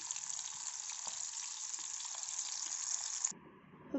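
Oats cheese fingers fry in hot oil with a steady, bright sizzle as the cheese bursts out. The sizzle runs for about three seconds, then drops away abruptly to a faint low bubbling.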